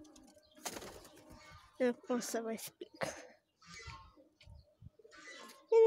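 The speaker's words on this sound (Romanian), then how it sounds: "Ăștia-s porumbei." Pigeons coo close by in several soft, repeated calls, mixed with people talking and a throat clearing.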